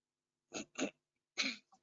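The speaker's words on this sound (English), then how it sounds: "Just cough." Two quick coughs, a brief pause, then a third stronger cough with a small trailing catch, close and alone.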